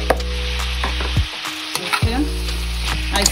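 Mushrooms stirred in a frying pan of beef and vegetable stir fry: a steady loud sizzle broken by a few spatula scrapes and knocks.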